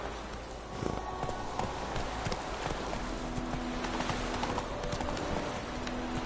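Hooves of the horse Roach galloping in The Witcher 3, a steady rapid clip-clop rhythm that runs throughout over a continuous ambient game background, with no talking.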